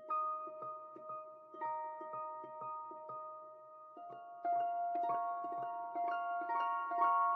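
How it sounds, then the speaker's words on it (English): A sampled piano preset from a Kontakt pack plays a quiet melodic pattern of repeated plucked chords and notes in a steady rhythm, growing slightly fuller in the second half, with no voices. "After that, I added this piano preset from my Kontakt pack again"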